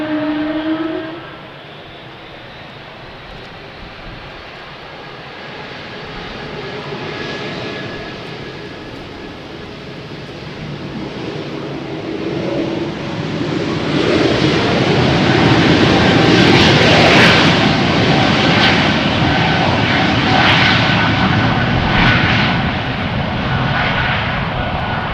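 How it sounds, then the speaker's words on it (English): A year-old KLM Embraer E195-E2 jet takes off from runway 36L at Amsterdam Schiphol in showery weather, a broad engine roar that swells steadily from moderate to loud and holds as the aircraft climbs away. "E2 Embraer 195 from KLM also coming this way, outbound to Stavanger"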